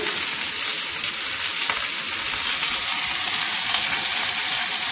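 Seekh kebabs fry in a pan with a steady, dense sizzle that stays close and even throughout, with faint occasional pops and no talking.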